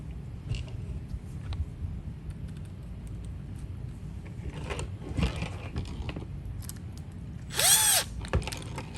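A small power driver snugs a header bolt on a Traxxas Nitro Rally RC car. It gives a few brief mechanical clicks and scrapes, then a short, loud whining spin near the end, close and with no voices.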